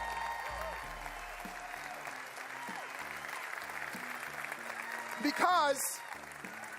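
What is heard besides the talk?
audience applause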